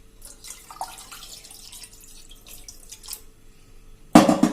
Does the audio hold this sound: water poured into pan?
yes